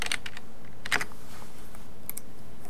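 Typing on a computer keyboard while entering a meter reading into lab sample software: a few scattered clicks and short bursts of key presses, fairly close and distinct against quiet room tone.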